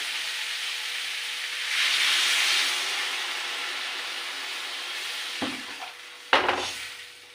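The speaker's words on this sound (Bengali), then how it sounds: "এবার আমি এতে জল দিয়ে দিচ্ছি" Hot fish curry with bottle gourd greens gives a soft, steady hiss after water is poured in, and it swells briefly before a couple of clattering knocks near the end.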